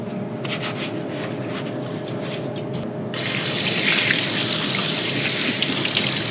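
A zucchini and a yellow squash are rubbed with salt and washed under a kitchen tap. Rubbing and handling noises come first, then loud, close running water gushes steadily, with no talking.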